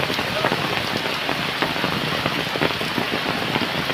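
Rain falling on a flooded rice paddy during transplanting, a dense close patter of drops hitting water and plastic sheeting, steady throughout.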